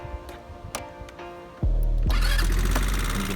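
A few ticking clicks, then a TaoTao Quantum Tour 150 motorcycle engine cranks and catches, settling into a loud, steady idle close by.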